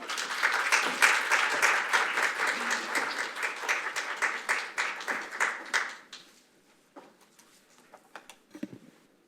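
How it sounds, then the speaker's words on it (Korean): Warm audience applause fills a forum hall at Korea's National Assembly for about six seconds, then fades to scattered claps and faint room noise. "뜨거운 박수로 환영해 주십시오"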